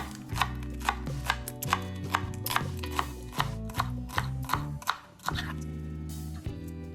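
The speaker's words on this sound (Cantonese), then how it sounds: "生菜切絲" A knife shreds lettuce into thin strips on a cutting board while side dishes are prepared for Cantonese chicken congee. Steady, rhythmic close-up chopping strokes run throughout over soft background music.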